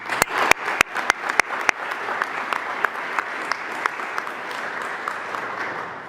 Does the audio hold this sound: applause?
yes